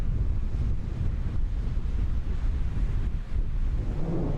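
Deep, continuous rumble of a United Launch Alliance Atlas V rocket lifting off from Cape Canaveral, a broad low roar buffeted by wind and heard from a distance, with no voices.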